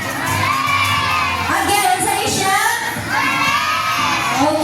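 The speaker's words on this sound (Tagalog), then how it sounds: "wave your balloons and you shout hooray" A crowd of children shouting hooray and cheering together at an event at SM Seaside, loud excited voices and whoops rising and falling continuously.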